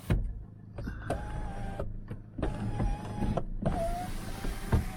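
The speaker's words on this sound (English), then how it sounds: "Sunroof." An electric sunroof motor on a Toyota RAV4 whirs in close, steady bursts separated by short pauses, with faint clicks and a rising whine as the panel travels.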